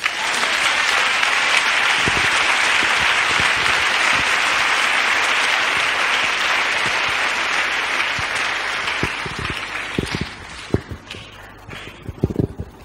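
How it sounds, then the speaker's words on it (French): A church congregation applauding and cheering during a sermon, a loud, dense, sustained ovation that thins out near the end into scattered claps and a few stray knocks. "Acclamons pour David."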